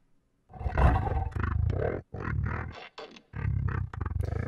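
A deep, growling Sea Emperor call from the video game Subnautica rumbles in several roaring bursts with brief pauses, sounding almost like garbled speech.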